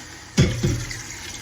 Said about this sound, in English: It also calls for a can of water, so I'm just gonna run some water in this can.